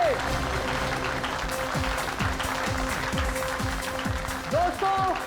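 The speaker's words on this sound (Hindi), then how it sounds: "जोरदार तालियां हो" Loud audience applause at a televised Hindi stage show, steady clapping throughout with music tones and sliding effects layered over it.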